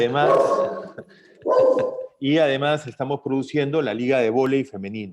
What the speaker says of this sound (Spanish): perdón por mi perro